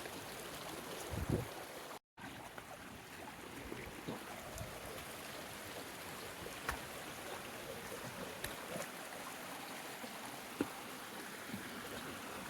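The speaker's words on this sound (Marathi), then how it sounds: "इथं लय जातोय पाणी" Water running through a channel into a Konkan rice field, a steady broadband rush that continues throughout at moderate level, with a brief dropout near the start and a few faint clicks.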